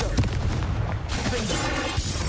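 Confringo spell blasts in a Hogwarts Legacy combat scene, a quick run of booming explosive bursts and crackles, loud and close amid game effects.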